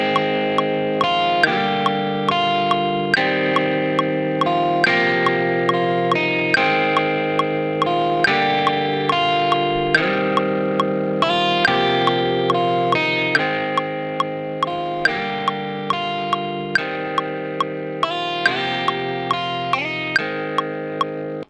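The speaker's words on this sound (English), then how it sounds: "Just grab a guitar amp and see what kind of presets fit." Electric guitar played through a stock Ableton guitar amp preset, picking a repeating melodic phrase with distorted, effected tone and even plucked attacks, steady and alone for about twenty seconds.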